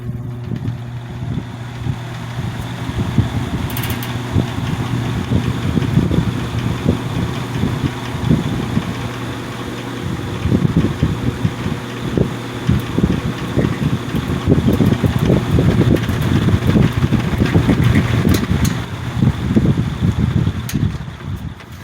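A vintage 1960s Lakewood X22 box fan runs on high speed, giving a steady low motor hum and airy whoosh with a faint rattle, close to the microphone and continuous throughout.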